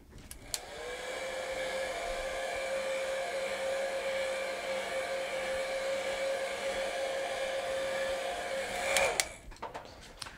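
A hair dryer blows steadily for about nine seconds to dry acrylic-style paint on a painted surface, a constant loud whirring drone that cuts off abruptly near the end.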